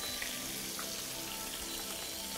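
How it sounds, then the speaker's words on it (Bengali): Potatoes seasoned with salt and turmeric fry in a pan, giving a steady, fairly quiet sizzle that holds evenly without talk. "আলু ভাজা"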